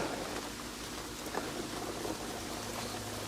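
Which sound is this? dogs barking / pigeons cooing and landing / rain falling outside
rain falling outside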